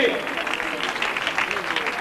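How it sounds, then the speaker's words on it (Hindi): Applause from an audience at a ceremony as a painting is presented, a steady wash of clapping held through the whole moment with a busy crowd murmur underneath. "आपकी भरपूर तालियां"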